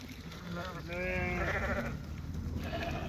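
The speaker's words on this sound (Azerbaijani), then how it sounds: "Görürsünüz bax quzular." Lambs in a flock of sheep at a livestock sale bleat repeatedly, several overlapping calls rising loud and close over steady farmyard background noise.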